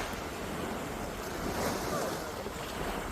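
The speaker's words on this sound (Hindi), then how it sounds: "I hope लहरों की आवाज़ आपको क्लियर होगी." Ocean waves wash onto the shore at Dibba, Fujairah, a steady, close surf roar with a soft swell in the middle, mixed with light wind rumble and no voices.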